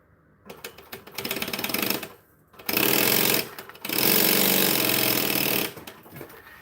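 A sewing machine chain-sews pieces one after another in three loud, steady bursts of rapid mechanical stitching, with short pauses between them and no speech.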